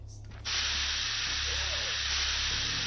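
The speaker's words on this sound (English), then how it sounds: "Let's just give ourselves a spritz." A med spray in the zombie survival VR game SURV1V3 gives a sudden, steady, loud hiss that starts abruptly and holds without a break.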